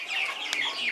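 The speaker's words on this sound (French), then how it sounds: "Voici la salle des poulets" Chickens clucking inside a chicken house on a Cameroonian farm, a steady chorus of close, busy clucks and chatter with no speech.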